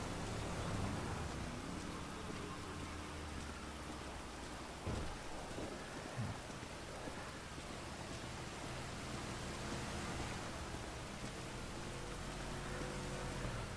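Rain in the video game GTA 5, falling at night along a road with no hard shoulder, a steady hiss with occasional low rumbles and a couple of brief thumps, no talk over it.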